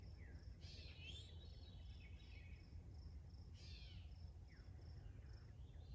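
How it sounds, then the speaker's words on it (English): A few soft, downward-slurred veery call notes repeat at intervals over a constant high insect trill and low background rumble. "You can also hear it doing its call note, veer."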